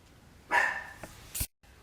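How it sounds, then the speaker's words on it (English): A dog barks loudly indoors, one sharp bark followed by a fainter yip and a short final bark, then quiet. "there goes the dog"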